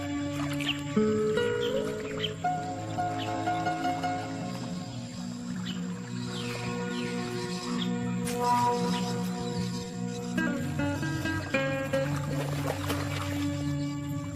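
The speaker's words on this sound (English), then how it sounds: "Life gets easy for abundant water birds." Water birds in the Pantanal call with scattered chirps and longer tonal cries over a steady background hum, some voices close and others farther off.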